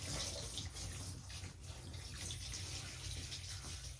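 Water pours onto a thirsty houseplant during indoor plant chores, a steady splashing trickle, fairly close and continuous for a few seconds.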